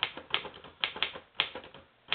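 Keys strike a manual glass-key typewriter with replacement feed rollers, a quick, uneven run of about seven sharp clacks close by with nothing else audible.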